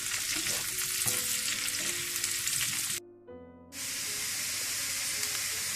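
Potatoes fry on high heat until golden, giving a loud, steady sizzle and crackle with a short dip midway before the dense frying noise resumes, no talking.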